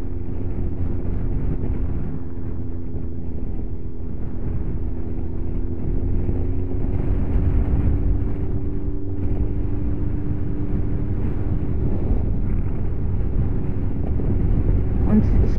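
Icy wind rushes steadily across the microphone during a motorcycle ride, with a low, constant engine drone underneath throughout.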